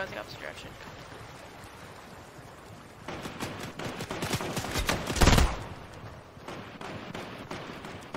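Enemy gunfire in a split-screen shooter video game, bursts of rapid shots building from about three seconds in with a loud peak midway, mixed with talk and background game ambience.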